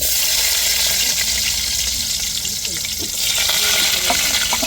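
Small onions frying in hot oil with chana dal for a South Indian tempering, a dense steady sizzle and crackle close by with no talk.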